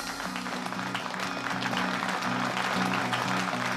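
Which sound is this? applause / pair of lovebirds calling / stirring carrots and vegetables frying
applause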